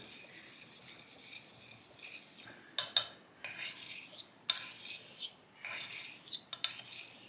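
A knife blade drawn across a Shapton 1500 whetstone in half strokes and X strokes, giving close rasping scrapes in uneven bursts with brief pauses between passes, no talking.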